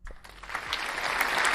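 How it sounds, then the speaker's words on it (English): A canned applause sound effect plays from a computer program, swelling quickly from a few claps into a steady, full crowd of clapping. "It was just some applause."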